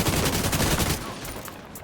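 Rapid gunfire from The Division 2 video game, a dense burst of loud shots that rattles for about a second before dropping to a quieter tail.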